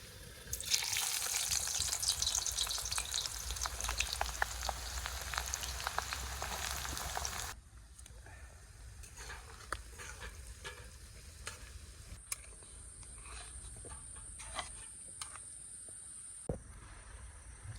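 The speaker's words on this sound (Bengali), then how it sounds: "বাড়ি থেকে চিকেন নিয়ে চলে এসেছি, আর রান্না শুরু করে দিয়েছে কাকা" Chicken frying in a pan at a campsite: a loud, dense sizzle with the scrape of stirring runs for several seconds, then drops to a quieter simmer with scattered clinks and scraping.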